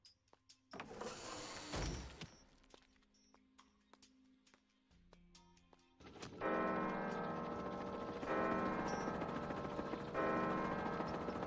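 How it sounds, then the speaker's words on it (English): Clock tower bells in the motorbike game Trials Rising ring out with a sustained, resonant tolling that grows louder and fuller in the second half, after quieter mechanical clicks and ticks. "Very annoying sounds, bells."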